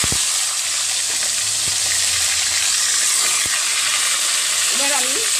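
Fish heads drop into hot oil and sizzle loudly and steadily, a dense, constant frying hiss with a few faint clicks and pops and no one talking.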